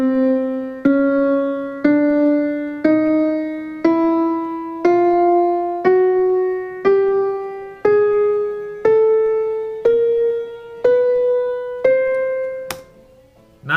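A piano plays a rising scale of single notes, one after another at an even pace, each note ringing clearly before the next.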